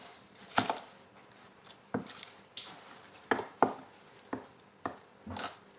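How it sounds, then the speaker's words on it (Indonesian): A knife chops spring onions on a cutting board with about eight separate, crisp knocks at an uneven rhythm. They sound close and clear, with no talking. "kita potong daun bawang dulu"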